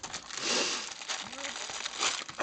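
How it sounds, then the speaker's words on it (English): Nylon drawstring stove bag for a Trangia burner and stand being handled, giving soft crinkling and rustling fabric sounds close by, steady and quiet throughout. "decent nylon type bag. Got a drawstring."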